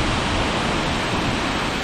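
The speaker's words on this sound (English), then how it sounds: "Mohawk River dumping into the barge canal." Mohawk River water pours heavily into the barge canal in a steady, loud, roaring rush that continues without a break, with no voices present.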